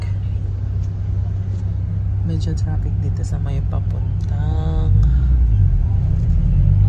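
Steady road traffic rumble heard from inside a vehicle on a Dubai street, a continuous engine drone with a brief rise near the end, while someone talks over it.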